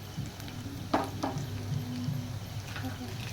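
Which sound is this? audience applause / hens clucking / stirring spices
stirring spices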